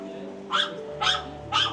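Three sharp dog barks at an even pace, close by, over a steady low hum, in Moustiers-Sainte-Marie in southern France.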